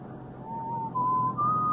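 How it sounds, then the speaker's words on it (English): A person whistles in a radio drama, a thin tune of a few sliding notes rising gradually in pitch, close and clear over a soft background hum. "Were you whistling just now?"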